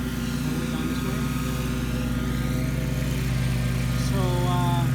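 A lawn mower engine drones continuously and loudly up close while mowing residential lawns, a steady buzzing hum with a voice speaking over it.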